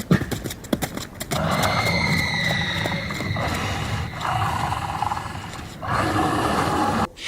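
Panicked horses gallop with rapid hoofbeats and frightened whinnies, fairly close, while roaring and rushing noise rises and falls around them and almost no speech is heard.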